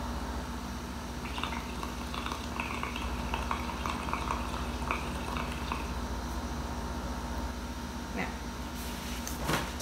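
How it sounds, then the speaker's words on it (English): Bubbles blown through two straws into a liquid, giving a steady, faint bubbling gurgle that runs continuously with little change. "I'm going to take two so I can make more bubbles"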